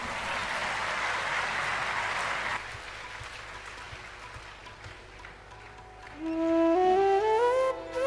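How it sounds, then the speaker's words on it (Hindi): Audience applause at a Hindu religious discourse on Kashi and Lord Shiva, given by Rajan Maharaj: dense clapping for about two and a half seconds, then tapering into scattered claps before a sustained melodic tone rises at the end. "एक बार बजाइए ताली इस पर।"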